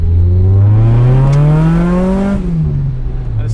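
A Toyota 4AGE engine in a TE72 Corolla liftback revs loud and close, its pitch climbing steadily then dropping off as the throttle is released and it settles to idle.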